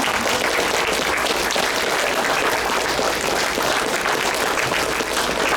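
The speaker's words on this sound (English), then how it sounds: "Let's give everybody a round of applause." Sustained applause from an audience at a church VBS program, dense clapping from many hands that holds steady and loud throughout.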